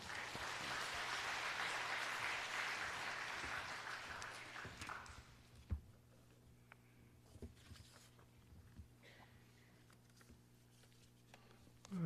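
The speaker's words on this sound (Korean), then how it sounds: "박수로 모시겠습니다." A church congregation at a Sunday evening service applauds warmly for about five seconds, then the clapping fades into quiet room noise with scattered footsteps and small knocks.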